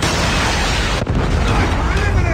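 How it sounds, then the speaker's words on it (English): A Predator missile strike in a shooter video game produces a loud, continuous roaring blast that fills the whole moment with dense rumbling noise and a brief dip partway through. "Predator missile inbound."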